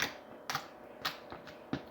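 Slime being kneaded by hand gives four close, wet squelching pops at roughly even intervals, with quiet handling between them.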